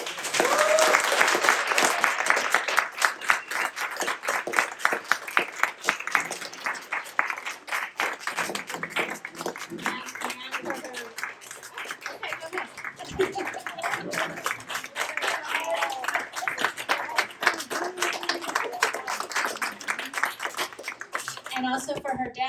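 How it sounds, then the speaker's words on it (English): Sustained crowd applause, dense and steady clapping for over twenty seconds, fading slightly near the end. "Can we have another round of applause?"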